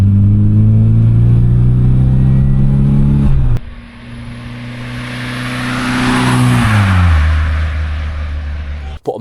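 A tuned-up engine in an MG Metro pulls hard on its first drive, droning loudly and climbing in pitch, then drops briefly at a gear change before rising again under rushing road and wind noise.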